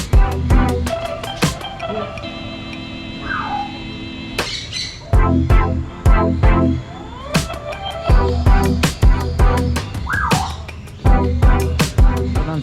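Birds in enclosures at KL Bird Park in Kuala Lumpur, Malaysia, give loud, close squawks and sharp calls in irregular bursts, with chirps and whistles between them.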